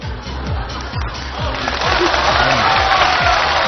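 A studio audience claps steadily on a Chinese television game show, a dense burst of applause that runs loud and unbroken throughout, with a low rhythmic thumping beneath it.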